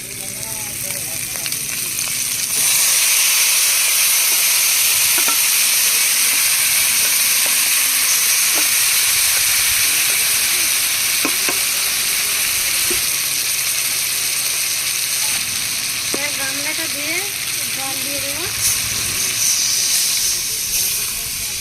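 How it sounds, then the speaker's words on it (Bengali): Marinated potatoes frying in a pan, a loud, steady broadband sizzle and hiss that swells as the potatoes go into the hot oil and keeps bubbling throughout, with light clinks of utensils. "লাল করে ভেজে নিয়েছি এবার ম্যারিনেট করা আলু দিয়ে দেবো"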